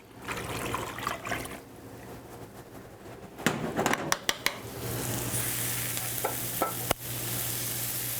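Water and vegetable broth poured into a crock pot for butternut squash soup, a steady splashing pour with a low hum underneath and a few sharp clinks near the middle.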